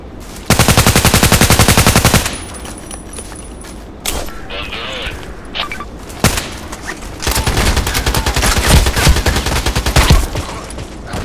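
Rapid automatic fire from an MK14 EBR CQB rifle in the video game Contract Wars, loud close bursts with a long sustained volley at the start and further strings of shots later, with a voice talking in between.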